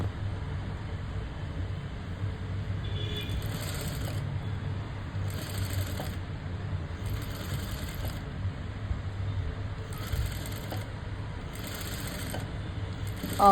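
Sewing machine stitching piping onto a lined blouse, a low continuous mechanical whir running steadily throughout with faint rhythmic ticking, no voices.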